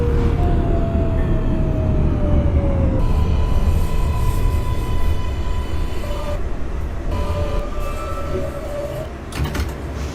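An NYC subway R142A train on the 2 line, simulated in the OpenBVE game, runs with a steady loud rumble and rising and falling motor whine, close and continuous throughout with no talking.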